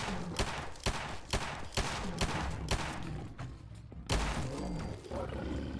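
Makeshift autoloader gun firing .44 Magnum rounds in Fallout 4, heavy booming shots roughly every half second in a steady volley, with a final louder blast after a short pause against a constant game backdrop.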